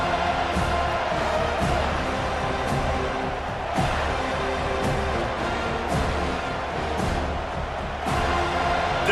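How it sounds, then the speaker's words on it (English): A stadium crowd in the College Football 25 video game roars steadily on third down, a thick wall of cheering and noise with periodic sharp bursts throughout. "Decibels rising as the crowd gets behind this defense on 3rd down."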